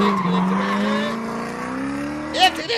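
A car's tires screech as a sound effect in a comedy radio prank call about failed brakes: a loud, sustained skidding squeal that wavers in pitch for nearly three seconds, with faint voices beneath it.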